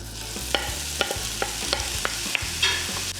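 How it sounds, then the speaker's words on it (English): Onions sauté in olive oil in a heated pan as a curry chicken begins, a continuous close sizzle punctuated by a regular series of sharp stirring clicks and scrapes, with no voices. "the first thing that we're gonna start sautéing is onions"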